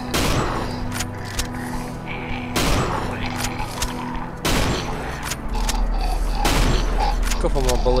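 Hunting rifle shots in the horror video game Cry of Fear crack out in several loud, spaced bursts over a droning game soundtrack.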